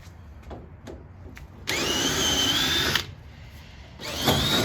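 A power drill whirs in two short bursts, a high motor whine rising and holding, separated by a pause with faint tapping, during race-car prep work near the radiator of an RSX.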